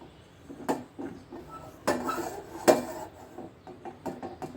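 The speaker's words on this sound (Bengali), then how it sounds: "যখন চুলায় দিয়ে দিলাম ডাকনা বসিয়ে দিলাম" A lid goes onto a pot of rui fish cooking on a stove: a few sharp metallic clanks and knocks in a close, quiet kitchen, with no talking.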